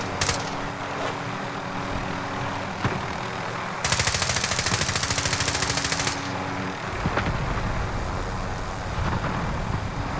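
Rapid automatic gunfire in Call of Duty Warzone, a dense burst of shots lasting about two seconds in the middle, with single sharper cracks before and after over a steady vehicle engine rumble.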